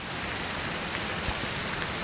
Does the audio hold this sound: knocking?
no